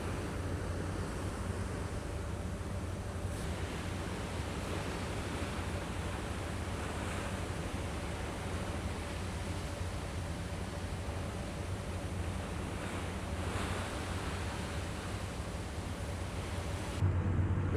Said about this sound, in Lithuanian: Jūros bangos išplaus.